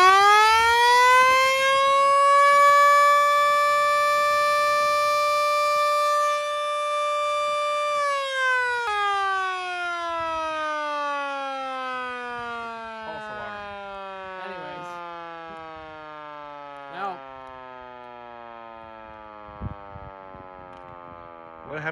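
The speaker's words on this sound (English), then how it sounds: "there's a freaking air raid siren on the roof" A loud air raid siren mounted on a truck roof wails at a steady high pitch, then winds down slowly in a long falling tone, with faint clicks underneath.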